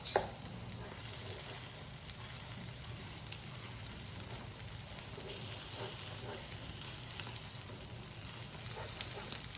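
A masala omelette sizzles in a hot pan while a spatula scrapes at the setting egg, making a continuous crackling fry with scattered scraping sounds, fairly quiet and steady throughout.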